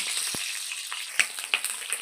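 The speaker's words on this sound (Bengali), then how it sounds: "তেল গরম হলে প্রথমে আমি পটলগুলোকে দিয়ে দেব" Crackling, popping sizzle of pointed gourd (potol) pieces frying in hot mustard oil, close up, with sharp spits scattered over a steady hiss.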